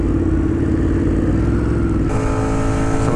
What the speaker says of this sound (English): Right now, I think we got about 15 or 20 bikes right now.